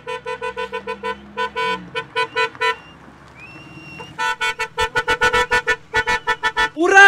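Car horn honking repeatedly in quick bursts, loud and near, then a pause and a longer run of rapid honks as a car pulls up to a house for a wedding homecoming.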